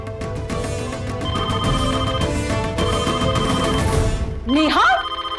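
A phone keeps ringing late at night in a Hindi TV drama scene under loud music, and near the end a voice briefly cuts in over it.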